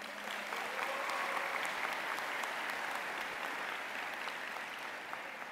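A commencement audience at a university college of social work's winter graduation ceremony gives sustained applause for the faculty, an even, continuous roar of many hands clapping in a large hall with no speech.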